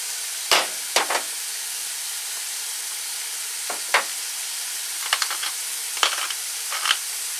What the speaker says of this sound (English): when I brown off my meat, I like to leave it in big meaty chunks